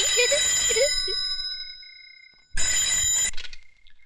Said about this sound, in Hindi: लो भैया, बज गई आपकी घंटी